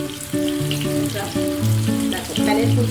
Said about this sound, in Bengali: প্যানের প্রথমে অল্প তেল দিয়ে প্রথমে একটু মশলাটাকে কমিয়ে দিয়ে আমি এখানে ভেজে নিচ্ছি চিকেনগুলোকে।